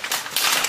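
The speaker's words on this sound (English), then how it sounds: "here's where I get a plastic bag" Thin plastic bag crinkling and rustling up close, a short burst of crackly handling while preparing to catch drained oil from a Henkelman Boxer or Jumbo series vacuum packing machine.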